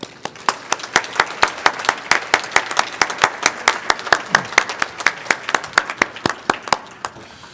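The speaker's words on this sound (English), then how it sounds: "we owe a round of applause, not just to you who made the effort to be here, but again, for all the mothers that are in the audience" Rhythmic, unison clapping from a symposium audience honouring mothers, steady beats roughly four per second across a room, moderately loud and without voices over it.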